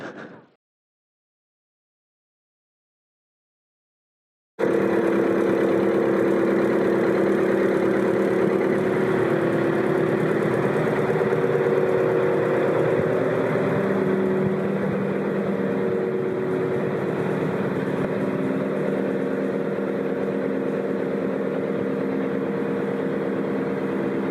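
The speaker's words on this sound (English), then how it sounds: "It was run by the old engine. It's been completely restored." An old restored engine powering a foghorn runs steadily with a loud, continuous mechanical drone after a brief silence, its tone holding constant throughout.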